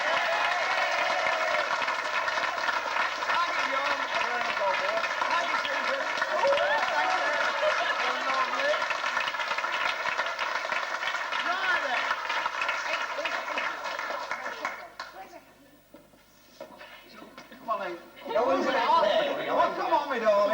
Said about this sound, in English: give a round of applause for the Mayor of Derby, Councillor John Keys, and his wife, Susan.